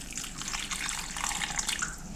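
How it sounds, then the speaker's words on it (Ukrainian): Water runs steadily from a tap and splashes over prunes being rinsed, a continuous close hiss with small gurgling variations. "заливаю гарячою водою та гарно промиваю"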